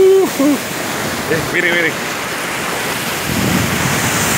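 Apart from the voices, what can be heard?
ocean waves and wind at a beach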